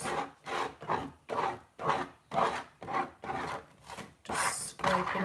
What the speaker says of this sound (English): Just scraping all these bits off.